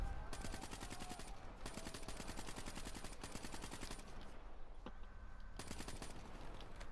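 Long, rapid bursts of machine gun fire in Black Ops 3, with sustained rattling strings of shots broken by short pauses, close and steady but fairly quiet overall.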